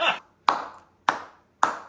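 Hand clapping: four sharp, close claps in a slow, even rhythm about half a second apart, each ringing briefly before silence, with no talking over them.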